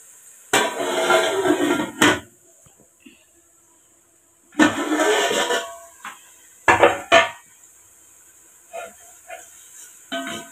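A spatula stirs onions sautéing in a pot for Arabian-style chicken mandi biryani, giving a few separate bursts of scraping and clatter against the metal with quiet gaps between them.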